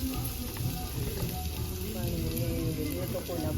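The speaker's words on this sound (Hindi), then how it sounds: "ये मसाला भून देगा।" Masala spices sizzle in a pan over a chulha stove, a constant close frying hiss under faint talking voices.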